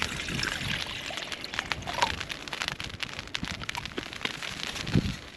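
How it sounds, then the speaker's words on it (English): Water pours into a cooking pot at an autumn wild camp on Dartmoor, a steady close trickling splash running throughout, with a small clink near the end. "In goes the water."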